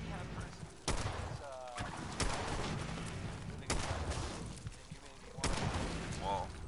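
Gunfire aimed at a Mirelurk Queen in a PS4 video game: four loud, sharp shots spaced about one to two seconds apart, cracking over a dense, continuous bed of game noise with brief warbling creature cries between them.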